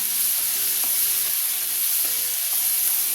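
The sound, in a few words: green chili kharda paste sautéing in oil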